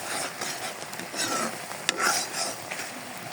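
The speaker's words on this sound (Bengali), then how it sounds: "আমটা আমি ভালোভাবে নাড়িয়ে দিতেছি।" A spoon stirs boiled mango pieces in a pot for sweet mango jorda pickle, making soft, quiet scraping and gentle wet shuffling close by.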